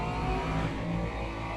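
GT3 race car engine at Sebring in a racing sim game, a steady loud drone at sustained revs with no voices, continuous for the short stretch.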